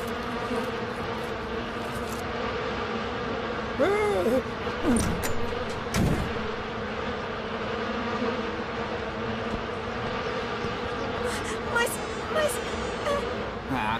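Cartoon giant monstrous bees buzz in a steady drone under music and animated sound effects, with a few sliding whoosh tones mixed in and voices speaking now and then.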